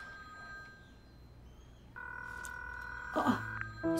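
A telephone rings from another room in a home, its tone starting partway through and continuing steadily at moderate distance, with a brief burst of another sound near the end.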